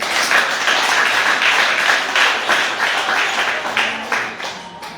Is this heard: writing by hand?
no